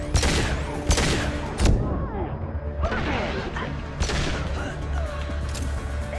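Rapid gunfire and impacts from enemies and gunships in the shooter Mass Effect 2, bursts of shots and crashes in quick succession over a dense, loud game soundscape.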